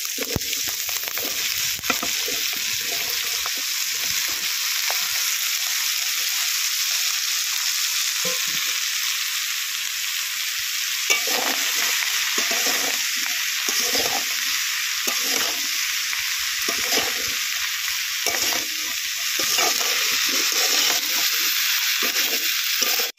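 Chopped okra frying in a pan, a loud continuous sizzle throughout, with steady scraping and clattering strokes as the pieces are stirred, close up with no talking.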